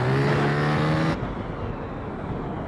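Honda XRE 300 motorcycle engine in GTA San Andreas, a loud steady droning hum with a strong low tone that cuts off abruptly about a second in, leaving a quieter rumbling background.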